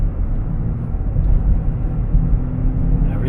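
A 2008 Hyundai Sonata cruising at about 30 mph under light throttle, heard from inside the cabin as a steady low engine and road rumble with even broadband noise and no sudden changes.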